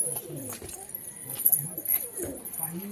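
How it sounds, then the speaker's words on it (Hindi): Pet pigeons of several varieties coo at a home loft, with soft, repeated low coos and faint rustling close by under quiet background noise. "इनमें सबो वेराइटी के कबूतर है संगवारी हो।"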